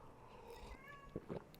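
A cat meows faintly in the background, a short quiet cry ending in two brief, slightly louder calls.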